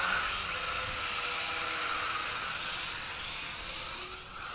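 A Mould King 33034 quadcopter drone, an X5C clone, flies without prop guards, giving a steady high-pitched whine of small propellers and motors that holds level and close throughout, with no voices.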